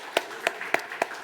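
A church congregation applauding the teachers, heard as four distinct, evenly spaced claps that are fairly close and soft, with nothing else around them.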